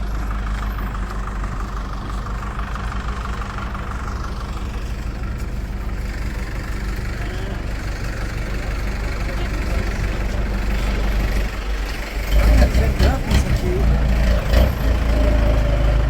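Dolmuş minibuses idle at a stop in Malatya with a loud, low, steady engine rumble, and a heavier rev surges in near the end amid street noise.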